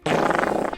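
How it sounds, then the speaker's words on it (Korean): A short AI-generated fart sound effect, a single loud, buzzy, rasping burst lasting under a second, heard alone. "방귀 소리"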